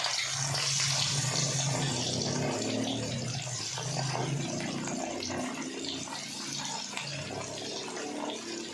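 Fish frying in hot ghee in a kadai gives a continuous close hiss and bubbling sizzle that stays steady and moderately loud from start to finish, with no talking.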